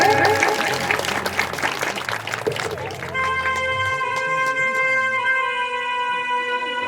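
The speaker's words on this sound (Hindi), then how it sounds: "सभी लोग तालियों के साथ स्वागत करें।" An audience at a Hindu religious discourse on the Bhagavata Purana claps for about three seconds, then the clapping fades as a sustained, droning musical tone takes over.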